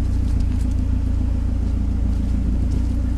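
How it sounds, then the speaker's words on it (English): A Saab 900 Turbo 16s engine idling, a steady low rumble with an even, unchanging pulse, close and alone without talk. "You can hear the engine running smoothly."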